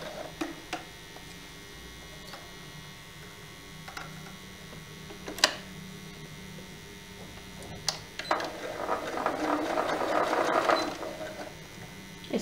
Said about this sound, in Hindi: सेम इसी तरीके पे हम इस तरफ भी सिलाई लगा लेंगे